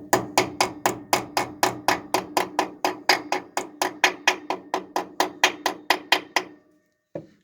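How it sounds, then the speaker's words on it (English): A hammer strikes the axle bearing of a 1992 Dodge D150 truck, ringing metallic blows repeated rapidly and evenly about twenty times up close, then a pause and one last hit. "real sharp hammer sound."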